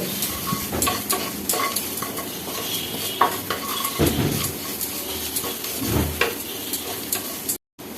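Food frying and being stirred in a pan with a little salt added, a steady close sizzle broken by scraping strokes of a spoon against the pan and light utensil clinks, with no one talking.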